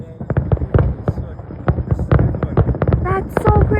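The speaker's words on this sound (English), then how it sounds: "That's the fireworks. That's the big firework." Fourth of July fireworks burst close overhead in a rapid series of sharp, loud cracks and pops, dense and irregular, with crackling toward the end.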